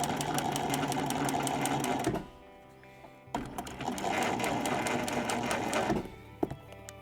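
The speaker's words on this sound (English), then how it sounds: "now I'm just sewing the lining to the outer leather around the top edge" Sewing machine stitching a boot lining to the outer leather around the top edge, running in fast, steady, close mechanical bursts, stopping for about a second, then running again before stopping once more.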